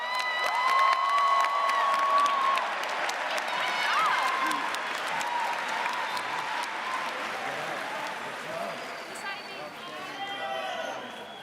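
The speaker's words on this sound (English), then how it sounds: "please give another round of applause for our student speakers, Max Smith, Anubi Barzane, Karan McCullum" Graduation ceremony audience for the class of 2023 applauding and cheering, a dense wash of clapping with shouts and whistles that stays loud throughout, easing slightly toward the end.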